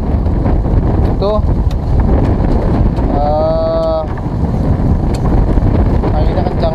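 Strong wind at sea buffets the microphone in a constant loud rumbling roar, with a boat on the water nearby and a few short tonal squeaks cutting through.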